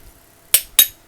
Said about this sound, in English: Let me get a little hammer to see if I can hammer this out.